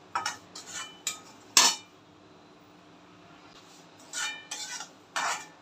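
Semolina and dry fruits roasting in a pan, heard as a handful of sharp metallic spoon scrapes and clinks against the pan, separated by quiet stretches with only faint background hum.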